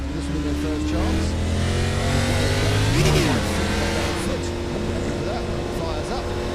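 A race car engine fires up in the iRacing sim during a pit stop after a full service and driver change, a loud continuous revving drone with rising harmonics and a brief surge midway, with commentary talk over it.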